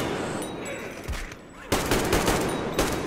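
Gunfire from the Metro Exodus video game comes as bursts of sharp shots and a heavier volley after a lull, mixed with other game noise and no clear talk.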